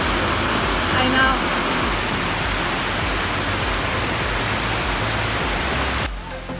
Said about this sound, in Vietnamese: Mưa rơi ào ào và rất lâu